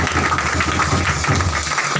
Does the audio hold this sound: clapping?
yes